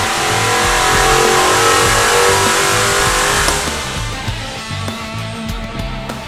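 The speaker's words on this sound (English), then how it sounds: "We installed the Livernois three-valve Stage 3 ported heads with the stock camshafts and made a few pulls to see what kind of gains we'd see." A Ford GT three-valve engine with Livernois Stage 3 ported heads and stock camshafts roars at high revs on a dyno pull, loud and sustained, then drops away as the throttle eases.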